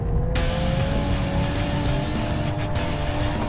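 A VW Golf R or Mercedes-AMG A45S drifting in drift mode with traction control fully off: a loud engine drone holds a steady tone under rough road and tire noise, with brief louder bursts recurring across the run.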